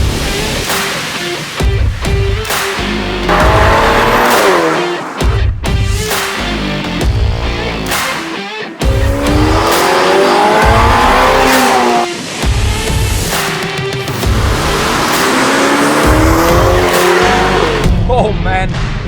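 Ferrari Portofino engine revving hard through gears while accelerating on a road drive, loud roaring pulls rising and dropping between shifts, heard from close by with someone talking over it.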